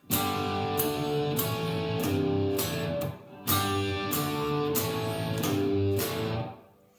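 A strummed electric guitar plays the chorus riff of a song, repeating in two matching phrases, with steady rhythmic chords and a short pause midway, close and clear with no voices.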